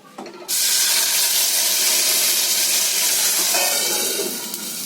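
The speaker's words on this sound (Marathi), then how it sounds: "आता याच्यामध्ये ही ग्रेव्ही ओतते." Mushroom gravy is poured into hot oil in a wok, setting off a sudden loud burst of sizzling hiss that stays strong and close, then eases slightly near the end.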